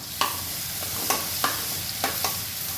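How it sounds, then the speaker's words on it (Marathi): Garlic and green chili paste sautés in a pan with a constant close sizzle. It is broken by five or six sharp spatula scrapes and taps at an uneven rhythm. No one speaks. "मिक्सरमधनं जे लसूण आणि मिरची वाटून घेतलं होतं ते मी घालते आहे आणि 1-2 मिनटं व्यवस्थित परतून घ्यायचं"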